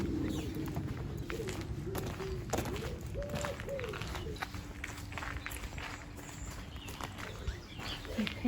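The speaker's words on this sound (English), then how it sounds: "Pigeons." Pigeons coo softly at an outdoor village filming location, their low calls partly buried under a steady wash of background noise and shuffling, footstep-like movement.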